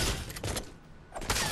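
Brief bursts of gunfire in the video game Fortnite, moderately loud at the start and again near the end with a quieter gap between.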